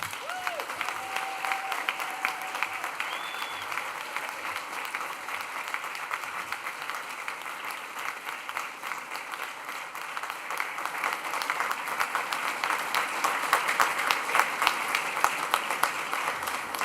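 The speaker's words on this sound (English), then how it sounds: "And a big noise round of applause to welcome our class of 2025." A graduation ceremony audience gives a sustained round of applause, a thick, continuous roar of many hands clapping that swells slightly toward the end.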